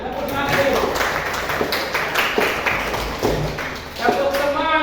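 Children in a classroom clap their hands in repeated sharp bursts, loud and close, with voices mixed in among the claps.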